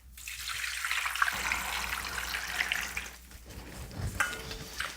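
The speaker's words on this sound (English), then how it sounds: "And then we're gonna add 20 cups of water." Water gushes steadily from a tap into a very full stock pot of chicken and vegetables, a continuous splashing, filling rush that holds at moderate level throughout with small gurgles.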